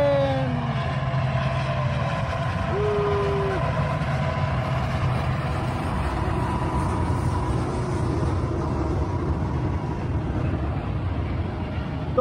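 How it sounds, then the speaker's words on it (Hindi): Very long goods train passing over a bridge, a steady heavy rumble with a drawn-out horn-like tone near the start, continuous and fairly close, no clear talking. "ये माल ट्रेन है जो लगेज ट्रेन जो यहाँ पे सामान लेके आता है।"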